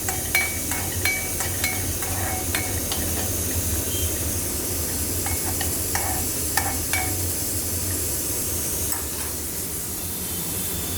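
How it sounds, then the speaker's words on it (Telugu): Cashew nuts frying in a pan until light golden, for a sweet payasam: a steady loud sizzle with a series of sharp clicks and taps as they are stirred, and no talking. "జీడిపప్పు వేసి లైట్ గోల్డ్ కలర్లోకి వచ్చేదాకా వేయించడం"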